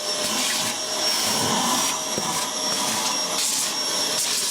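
A vacuum cleaner runs steadily with a loud, constant high-pitched whine and rushing airflow, no voices present.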